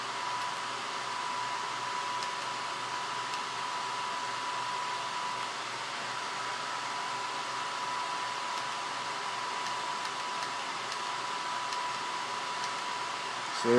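Twin 60 mm cooling fans spinning at 8,800 RPM in a cheap 1300 W power supply, a steady loud high-pitched whoosh with an even airy hiss that stays constant throughout.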